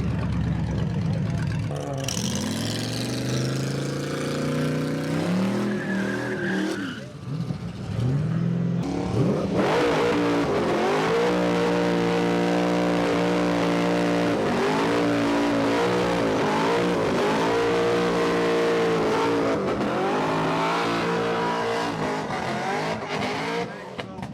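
At the Retro Rides Gathering 2019, an Audi corners hard and accelerates nearby. Its engine repeatedly revs up and falls back, with tire squeal between the pulls, while people talk in the background.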